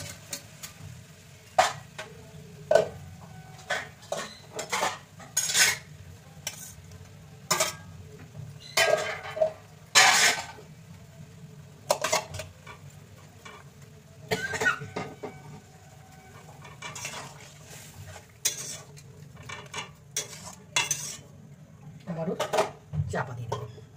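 Pots, lids and utensils clatter and clink in a home kitchen while mixed vegetables go one by one into a boiling curry pot, with sharp irregular metallic knocks over a low steady hum.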